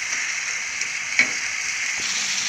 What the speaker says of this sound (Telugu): ఇంకా ఇలాగే ఫ్రై చేసేసుకోవాలి దాంతో పాటు